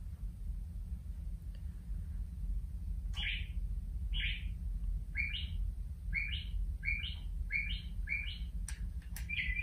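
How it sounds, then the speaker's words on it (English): Birds chirp inside a public library in a steady series of short, bright calls, roughly one per second, over a low indoor hum. "Everyone knows that's the storeroom birds."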